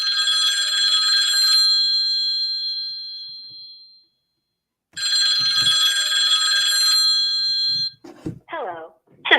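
A telephone rings in two long electronic trills separated by a pause for an incoming prepaid collect call from a New York State prison, loud and close, followed by a voice starting to speak.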